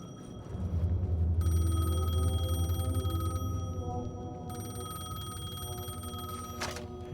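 Payphone in the video game Alan Wake 2 ringing on a New York street, a loud electronic bell tone starting after a moment, pausing briefly and resuming, over a low ambient rumble.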